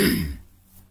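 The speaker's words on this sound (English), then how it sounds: "Sorry about the cough." A single throat clearing, a short rough burst up close that fades quickly into quiet.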